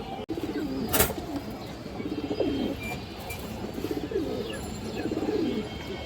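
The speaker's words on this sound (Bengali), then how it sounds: "কালো গলা মাদি কৌতর" Black-necked female pigeon cooing, several soft rolling coos repeated at a relaxed pace, close but modest in level, with a sharp knock near the start and faint background hum.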